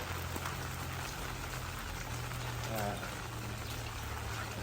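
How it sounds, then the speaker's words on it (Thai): Steady, dense rain hissing and pattering throughout in Phon, Thailand, with a brief muffled voice underneath. "แต่ว่าตอนนี้บรรยากาศฝนตกนะครับ"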